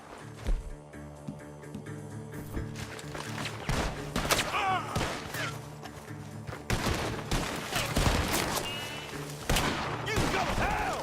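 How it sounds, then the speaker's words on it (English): Gunfire rings out from a barn in the video game Red Dead Redemption 2: repeated loud, sharp shots come in irregular bursts over a busy in-game background. "The gunshots are coming from that barn."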